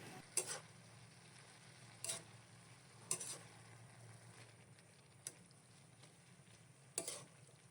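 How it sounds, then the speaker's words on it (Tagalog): Vegetables and chicken with oyster sauce are stirred in a pan, a soft continuous sizzle broken by five or six sharp scrapes and clacks of the utensil, quiet and without talk. "Lagyan na din natin ito ng oyster sauce. Ayan, haluin lang natin."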